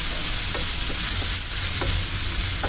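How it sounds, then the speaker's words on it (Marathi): Crushed ginger and garlic with squid keema sauté in a pan over medium-high gas, cooked Malvani style, giving a steady, close hiss of frying with occasional light stirring clicks and no voices. "आणि आता हे मीडियम टू हाय गॅसवरती परतून घेणार."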